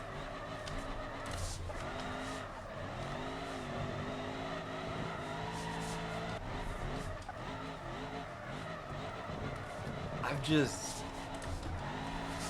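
A limousine drifting in the BeamNG video game, its engine droning steadily while the tires skid and squeal across a track, continuous and loud, with a voice talking over it.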